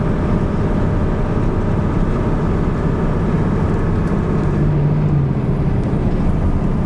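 A truck with a Cummins engine pulls up a hill, holding a steady, loud, low engine drone close by throughout, with no breaks.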